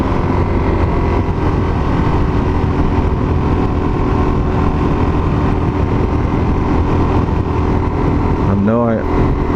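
A 2019 Suzuki DRZ400 SM supermoto engine drones steadily while riding, wrapped in heavy wind noise, with a quick rising rev near the end.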